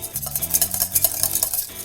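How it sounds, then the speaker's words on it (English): A whisk beats a lumpy, thickening gelatin liquid for a vegetable terrine in quick, close, rhythmic strokes, with a steady patter of light clinks and swishes and no voices. "Getting the liquid back and forth between the tines is whisking"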